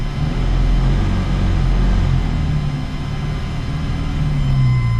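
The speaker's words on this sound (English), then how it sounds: "So I'll give it a couple revs though." A 1985 Dodge Ram 50 pickup idles and revs with a deep, steady low rumble, the engine note rising and falling slightly over the run, heard up close without voices.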